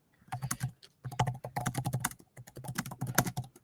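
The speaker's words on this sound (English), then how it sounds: "I'm typing so fast." Fast typing on a computer keyboard during a sports podcast, with rapid bursts of clicking keys in quick clusters separated by brief pauses, close and crisp, no talking.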